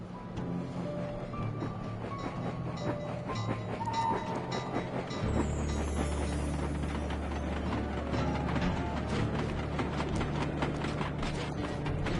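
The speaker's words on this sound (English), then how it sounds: "Iron Horse number 1 should be passing by any time now. I see it. It's moving awfully fast." A fast train rushes past in the video game Sly Cooper 2. Rhythmic clattering wheels grow into a loud, sustained rumble partway through, over a faint background game score, with no talking.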